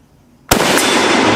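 A single Mauser Kar 98k rifle shot cracks sharply after a brief quiet moment, loud and close, followed by a sustained roar of echo and noise.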